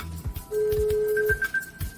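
Steady electronic tone during a test call on an iPhone newly unlocked from its SIM lock, a sustained pitch joined by a higher beeping line, with faint low thumps and background noise.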